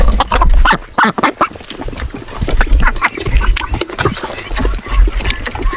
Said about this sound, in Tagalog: yung ating mga Peking duck,